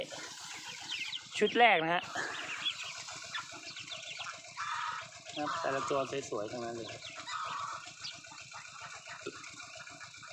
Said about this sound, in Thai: นี่ไก่ที่เราเพาะไว้